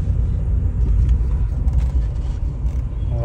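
A car rumbles past on the road nearby, with a steady low engine and tyre roar filling the short stretch without any talking.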